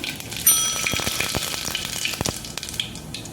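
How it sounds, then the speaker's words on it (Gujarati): Cumin seeds added to hot oil with popped mustard seeds in a Gujarati kitchen, sizzling close up with a loud initial burst, then steady frying hiss dotted with sharp spattering pops. "એમ આપણે જીરું નાખી દઈશું"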